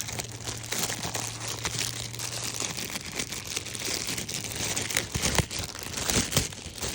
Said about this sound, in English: So I'm gonna take this out of the plastic here.